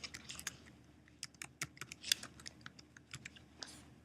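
Password keystrokes tapped out on a computer keyboard, a quick irregular run of light clicks at close range with no voices.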